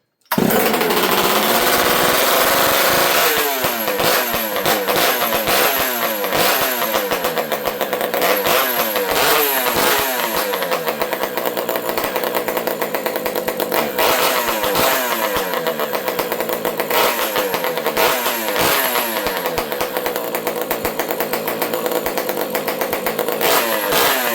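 Close and loud, a Partner P42 cut-off saw with a custom-built exhaust pipe runs steadily with the choke off, its buzzing two-stroke drone rising and falling in repeated revs for over twenty seconds.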